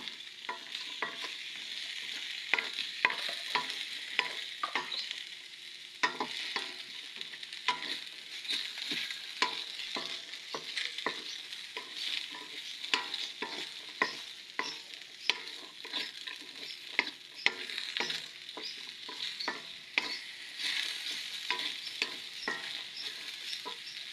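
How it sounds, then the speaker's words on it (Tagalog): Ground meat sizzles in a pan while a utensil stirs it, a steady close frying hiss broken by frequent scraping and clinking strokes throughout, with no talk. "Lagyan na natin yung giniling."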